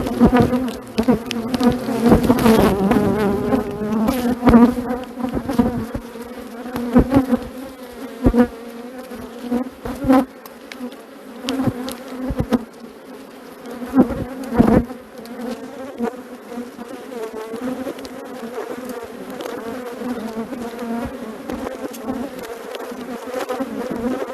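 Honeybees buzzing around an open hive at an apiary in early spring, a steady swarm drone with individual bees passing close and loud at times, no talking.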